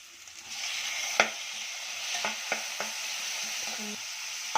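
Onion and tomato frying in a pan, a soft continuous sizzle close by, broken by several sharp clicks and scrapes of a spoon stirring against the pan.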